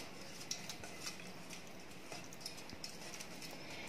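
Chicken pieces being mixed by hand with paprika or chilli powder and salt in a bowl for home-style fried chicken, giving a faint, steady wet rustle with light clinks against the dish.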